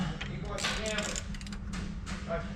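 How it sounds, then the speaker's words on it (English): A ratchet wrench clicks in short bursts while bolts are tightened on a car's water pump, close and fairly faint over a steady low hum, with metallic ticks and clanks scattered throughout. "We'll go back through the ratchet."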